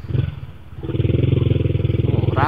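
Motorcycle engines at the G-Expo Kemayoran fair in Jakarta: a close, loud idling motorbike with a rapid, steady putter that builds after a brief lull, with other traffic noise around it.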